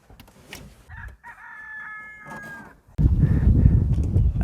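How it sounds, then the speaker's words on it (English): A rooster crows once in the distance on a farm outside Villiersdorp, a drawn-out rising call, followed by a louder burst of rustling and outdoor noise close by. "Listen to the rooster."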